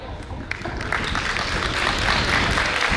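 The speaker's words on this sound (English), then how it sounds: "let's give a huge round of applause to our incredible musicians who have brought rhythm alive" Audience applause at a college rhythm-music anniversary celebration in Bhopal, honouring the band's musicians, a steady dense wash of clapping from a large crowd that holds through the whole stretch.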